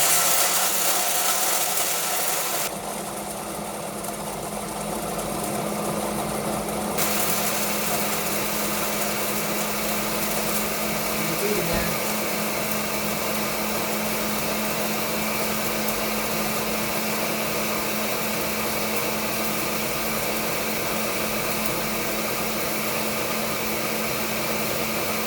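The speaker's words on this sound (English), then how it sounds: "I start off on low, let it go for a bit, and then we'll crank it to high" A food processor grinds peanuts into homemade peanut butter with a continuous loud motor whir, steady throughout, its pitch and tone shifting slightly early on as the speed is changed, with no talking over it.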